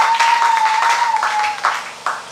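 Applause in a French-language church service: a short burst of congregational clapping, fairly loud and dense, with a sustained tone and some voices mixed in underneath.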